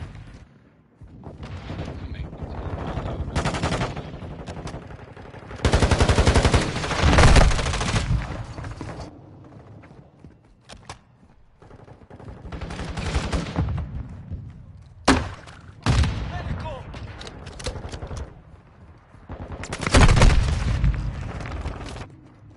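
Gunfire rattles through a video game battle in repeated loud bursts, with heavy thuds and explosive booms between quieter stretches, and voices occasionally call out over the fighting.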